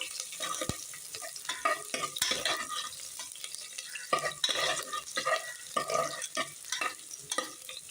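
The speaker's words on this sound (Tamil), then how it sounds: "நறுக்கி வைத்த வெங்காயத்தை வதக்கிடணும்." Chopped onions being sautéed for a samosa filling, stirred in a pan with soft frying sizzle, scraping and occasional clinks of a utensil against the pan, steady and close with no talk.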